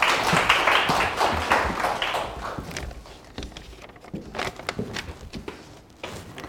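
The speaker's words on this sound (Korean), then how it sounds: "박수 한번 쳐주십시오." An audience at a law exam prep information session claps together, a dense burst of applause that thins into scattered individual claps before dying away.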